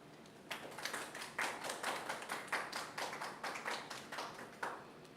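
Audience at a veterans and PTSD open mic breaks into steady applause, a dense patter of many hands clapping in a mid-sized room, rising quickly and holding at an even level for several seconds.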